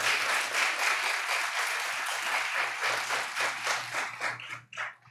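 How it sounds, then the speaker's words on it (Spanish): Audience applause at the grand final of a MicroPitch business plan competition, a steady wash of many clapping hands lasting several seconds before thinning out near the end. "Vamos a comenzar aplaudiendo a las siete exposiciones."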